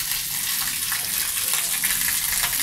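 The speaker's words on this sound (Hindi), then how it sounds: "तो इसको मैं जैसे पानी डाल रहा हूँ" Water is poured into a tank for a chemical reaction, a steady rushing gush that continues evenly throughout, close and fairly loud.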